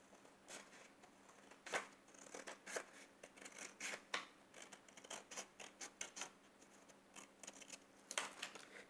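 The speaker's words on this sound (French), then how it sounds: "Vous coupez votre morceau." Scissors snipping through a piece of paper in a series of quick, close, crisp cuts with short pauses between them, no talking.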